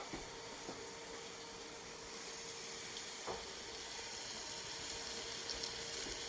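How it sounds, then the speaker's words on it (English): Water poured into a pan of tomatoes cooking on the stove, giving a steady sizzle and steamy hiss that builds slightly, with a few clinks of utensils and no talking. "Be a good idea to add a little bit of water."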